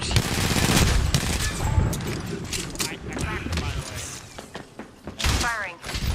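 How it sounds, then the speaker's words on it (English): Video game gunfire crackles in rapid bursts and scattered single shots, with thuds and mechanical clatter mixed in, loud and close under a player's voice. "Firing."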